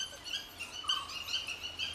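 A dhole, the Indian wild dog, gives a whistling call to pups in the forest, a short series of thin, high, squeaky whistles rising and falling over about two seconds, faint and with no other sound.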